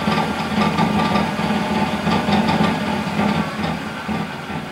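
The electric motor of a BMW 320i converted to electric drive spins up to about 1,000 RPM, giving a steady close mechanical whir with a faint rhythmic knocking running throughout and no talk.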